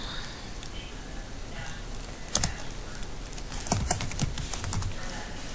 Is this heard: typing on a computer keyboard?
yes